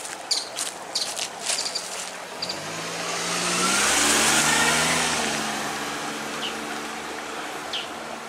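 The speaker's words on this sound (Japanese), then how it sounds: "車来た。" A car approaches and passes close by on a quiet rural road among rice fields near Nara, its engine swelling to a peak and fading, with crickets chirping and light taps before it arrives.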